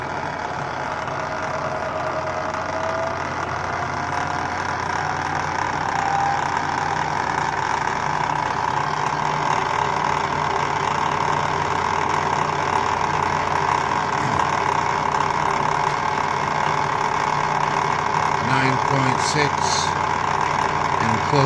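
A 36-inch DIY wind turbine alternator spun up to 200 RPM under test, giving a steady mechanical whirring hum with tonal whine that holds level throughout, fairly loud and close, with a few brief clicks near the end.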